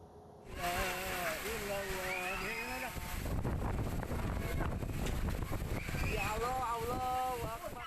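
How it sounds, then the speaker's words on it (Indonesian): Tornado-force winds tear through a residential neighbourhood of Tasikmalaya, West Java, in a steady, loud broadband roar that buffets the microphone, with people shouting over it at the start and again near the end. "Inilah video amatir saat angin puting beliung menerjang Kelurahan Sukajaya, Kecamatan Purbaratu, Kota Tasikmalaya, Jawa Barat, Jumat petang."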